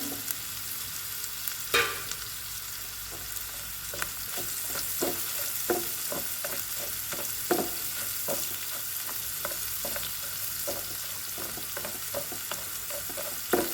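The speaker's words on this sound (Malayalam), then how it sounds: "ഒരു ലീഫ്, 4-5 കരയാമ്പൂവ്, പെരുംജീരകം ഇതൊന്നിട്ടിട്ടൊന്ന് മൂപ്പിക്കാം" Bay leaf, cloves and fennel seeds frying in hot oil in a pan, a soft continuous sizzle with a sharp pop near the start and evenly spaced small crackles and spatters throughout, close up.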